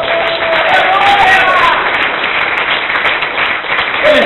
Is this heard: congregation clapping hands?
yes